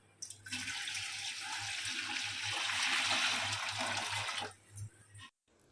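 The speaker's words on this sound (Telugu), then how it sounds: "ఒక పెద్ద గిన్నె పెట్టుకొని ఆ గిన్నెలో 8 గిన్నెలు నీళ్లు పోసాను" Water pours steadily into a large cooking pot for about four seconds, a close, full rushing splash with a low hum underneath, followed by a few small clinks.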